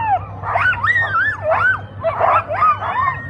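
Sled dogs at the start of a sled dog race, the Fur Rondy Open World Championship, yip, whine and howl in eager, rising and falling cries, several overlapping voices close by in rapid bursts.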